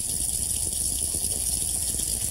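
Household plumbing with the water turned back on for a leak test, giving a steady hissing gush of running water through the pipes, continuous and close.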